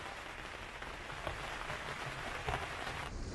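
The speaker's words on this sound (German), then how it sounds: "Hoffentlich ein sauberer Regen" Steady rain patters on a sailing boat after a thunderstorm, a dense, even hiss of drops with a few slightly louder taps, constant and close throughout with no voices.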